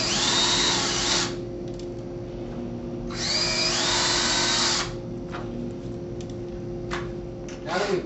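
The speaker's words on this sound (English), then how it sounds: "we can pre-drill our holes" A power drill whirs in two short bursts, each lasting a couple of seconds, pre-drilling screw holes for shutter installation, over a low steady background hum, close by.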